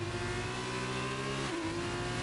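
Formula 2 race cars on the Brazil circuit in a racing video game, a sustained high engine whine that holds steady, then drops briefly as the pitch shifts before climbing again, loud and continuous with no talking.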